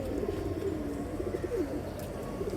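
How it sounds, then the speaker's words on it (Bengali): Sapchila pigeon cooing in soft, repeated low-pitched coos, near but quiet, over a background of faint outdoor ambience. "এই যে সাপচিলা একটা কবুতর"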